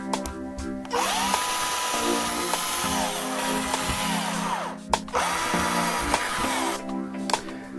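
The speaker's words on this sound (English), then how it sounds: "it's time to drill." A power drill bores mounting holes into a wall for acoustic panel impalers, several loud whining bursts that rise as the bit spins up and bites, separated by brief pauses.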